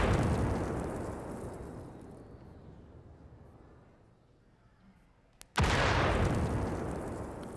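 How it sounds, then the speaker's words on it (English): An artillery shell from the Xbox One version of World of Tanks explodes near the player: a loud rumbling blast decays over several seconds to near silence, then a second sharp, sudden impact bursts back in at full strength. "This is our artillery hitting the ground near you on the Xbox One"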